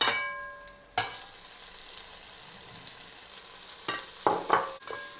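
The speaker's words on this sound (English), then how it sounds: "While they are frying, we'll just add the vegetables with that." Onions and vegetables stir-frying in a pan, with a steady broadband sizzle, sharp clatter near the start, and a few bursts of stirring and scraping toward the end.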